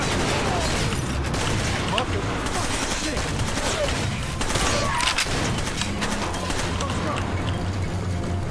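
Loud, continuous firefight in Far Cry 2, rapid gunshots and bursts layered over rumbling background, with someone talking over the shooting.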